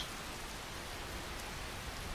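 Rain falls steadily in Skyrim as a soft, continuous hiss at low volume, with no voices over it.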